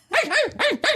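A dog named Blue barks loudly and close by: three sharp, rapid barks in quick succession, with no other sound around them.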